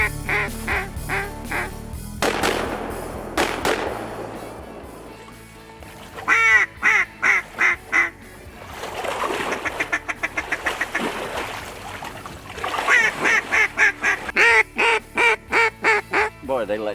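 A mixed group of ducks quacks in repeated rhythmic bursts during a waterfowl hunt, with loud runs of calls broken by quieter pauses.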